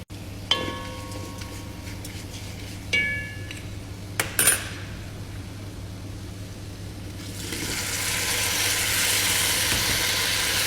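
Lemon and date pickle stirred in a pan, with sharp metal spoon knocks and clinks against the pan early on, then a soft hissing sizzle that rises and holds steady toward the end.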